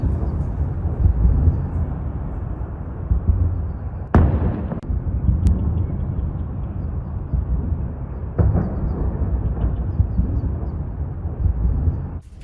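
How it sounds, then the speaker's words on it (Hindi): A continuous, loud rumbling roar with a couple of sharp bangs cutting through, like distant explosions over a heavy background din, from an attack on the US embassy in Baghdad. "हमले के बाद धमाका हुआ, धमाके की आवाज सुनी गई।"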